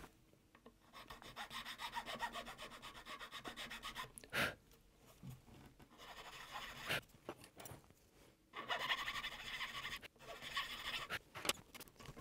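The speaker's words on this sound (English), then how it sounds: "Now you have to file the slots with a fitting gauge nut file." Rasping strokes of a fitting-gauge nut file working the string slots of a guitar nut, in repeated bursts of back-and-forth filing separated by short pauses, close and fairly quiet with no talking.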